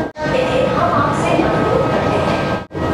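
Steady, loud rumbling roar of a Sealdah–Bangaon AC local train running through Gopalnagar without stopping, heard from inside the carriage as a continuous close wash of rolling noise.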